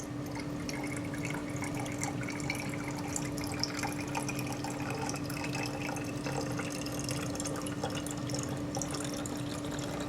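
Room-temperature water pours steadily for a homemade glass window cleaner, a continuous soft splashing and trickling stream that runs at moderate volume.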